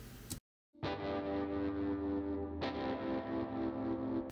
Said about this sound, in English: And with the reverb.